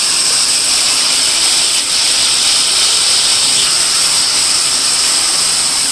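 Ground onion paste hissing in a hot pan, a loud, constant, close sizzle that runs unbroken throughout with no voices.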